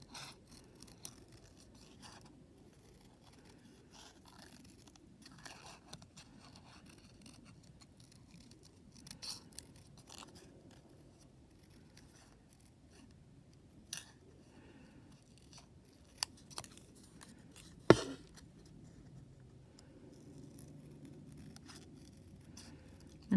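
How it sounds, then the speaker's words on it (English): Scissors fussy cutting paper leaves for a Stampin' Up craft kit project, heard as faint, sparse snips scattered over a quiet background. "go ahead and fussy cut your leaves"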